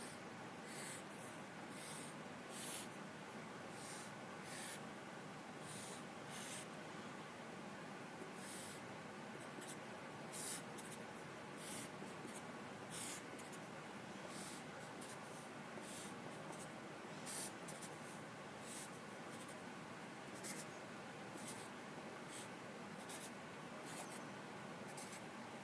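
A pen scratches steadily across paper while supply and demand graphs are drawn, with continuous close strokes and short repeated ticks and no talking.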